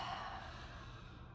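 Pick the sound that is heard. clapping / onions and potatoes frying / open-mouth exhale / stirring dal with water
open-mouth exhale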